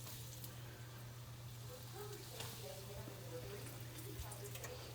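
Green tomato slices fry in hot oil, giving a faint, steady sizzle over a low constant hum, with scattered soft pops and crackles.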